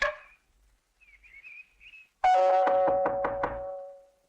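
A series of rapid, resonant knocks lands on a door in a Hindi film scene, loud and close, after a brief faint whistling tone.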